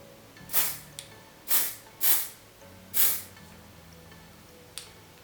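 Four short hissing bursts from a spray bottle spraying makeup product onto a Real Techniques sponge, closely spaced, with faint clicks of the nozzle between them in a quiet room.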